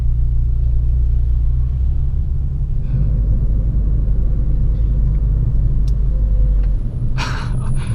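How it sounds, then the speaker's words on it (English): A deep, steady Brabus Mercedes C63 coupe engine rumble dominates, loud and close, with faint traffic and a brief hiss near the end. "a Brabus C63 coupe. Very nice. But that sounds like a total monster."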